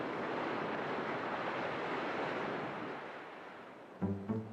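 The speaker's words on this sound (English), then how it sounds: "The waves wash it up on the beach." Ocean waves wash sand up onto a beach in a steady, close rushing surf that slowly recedes, followed by a few brief knocks at the end.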